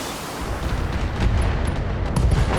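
Heavy mech weapons fire in the BattleTech video game, a loud rumbling volley of booms and blasts with crackling impacts building over a couple of seconds, no speech.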